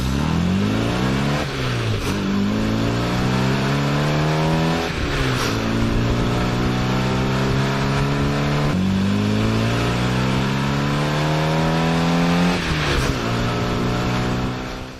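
A Mini Cooper engine fitted with a K&N intake and straight-through exhaust revs loudly and close, rising repeatedly through the gears with brief dips between pulls, a raspy, fruity note.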